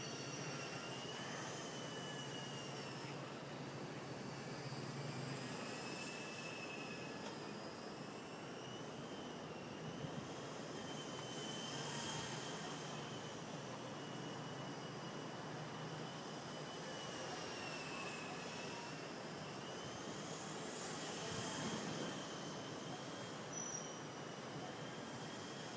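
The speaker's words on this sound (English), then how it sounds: "The wind is lifting the heli up quite high." An Xtreme Productions Solo Pro 328 RC helicopter flies fast outdoors in wind, its steady high-pitched whine of rotor and motor swelling and fading as it passes nearer and farther, with no voices over it.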